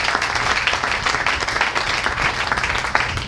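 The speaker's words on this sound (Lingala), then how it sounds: "Acclamons le Seigneur. Tobeteli kula maboko." A church congregation applauds the Lord during a bilingual French and Lingala service, a steady, dense wash of many hands clapping at close range throughout.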